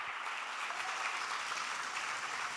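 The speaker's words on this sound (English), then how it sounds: "Let's give them a round of applause." Continuous applause from an audience at a political speech in Brooklyn, New York, a full, even roar of clapping throughout with no voices over it.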